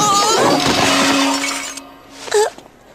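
Drinking glasses shatter in a cartoon scene: one loud, close crash with a tinkling spray of glass, then a brief vocal cry after a short pause.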